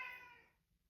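A cat meows once, a clear, fairly close call that fades out within half a second, leaving near silence.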